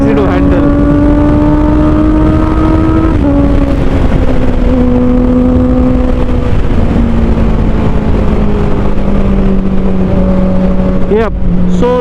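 A Honda CBR 650R middleweight sports tourer with an inline four-cylinder engine and upshift quick shifter hums steadily while riding, its engine tone holding and gradually dropping through the run under wind noise, with a brief shift near the end.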